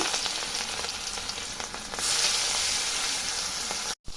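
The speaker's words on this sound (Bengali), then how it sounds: "এখন মাছগুলো ভেজে নিব। মাছগুলো কড়াইতে দিয়ে দিচ্ছি।" Rohu fish pieces fry in hot oil in a wok, giving a loud, steady, hissing sizzle that swells briefly midway and cuts out for a moment near the end, with no talking.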